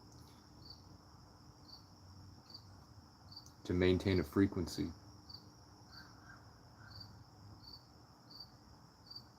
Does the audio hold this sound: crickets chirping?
yes